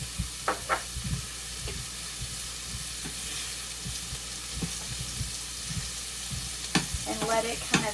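Butter melts in a hot Instant Pot, giving a soft, continuous sizzle and hiss. A few faint clinks and stirring taps from a utensil come through now and then.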